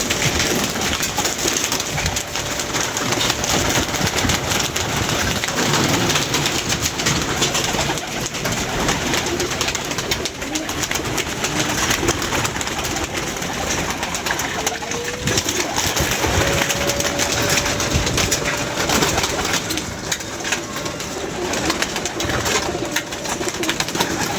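Pigeons in a loft coo faintly off and on beneath steady broadband noise that sounds like rain or wind, with no voices close by.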